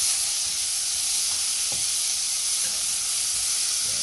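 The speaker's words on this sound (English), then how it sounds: "I'm gonna throw it in the oil. So we're gonna make that fry up right now" Seasoning sizzles steadily in hot oil for a fish and pumpkin rice dish, a loud, continuous close-up frying hiss with a few faint pops and no talking.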